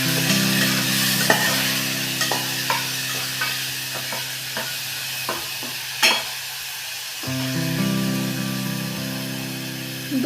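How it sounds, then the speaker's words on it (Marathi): Chopped tomatoes fry in hot oil for a green pea vegetable dish, giving a steady close sizzle with scattered stirring clicks and scrapes; the sizzle cuts out briefly, then returns. "तेल आपलं गरम झालंय. यानंतर आपण सगळ्यात अगोदर टोमॅटो घालून घेऊया."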